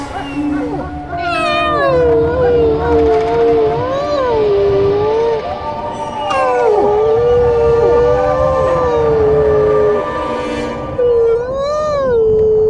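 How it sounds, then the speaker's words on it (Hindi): A dog howls in long, wavering, mournful wails that rise and fall, repeating several times over faint background noise. "फिर कुत्ते के रोने की आवाज"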